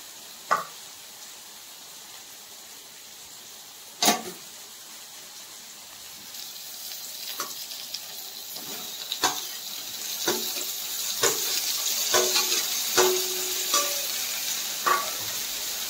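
Prawns frying and being stirred with a ground coconut-onion masala in a home kitchen, with scattered spoon scrapes and clinks over a soft, steady sizzle that grows busier toward the end.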